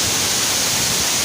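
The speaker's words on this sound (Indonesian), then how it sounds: "Curug Kembar, air terjun yang mempunyai dua aliran air terjun" Curug Sejoli, a twin waterfall with two streams on Gunung Khayangan, gives a dense, steady, close rush of falling water with no pauses or voices.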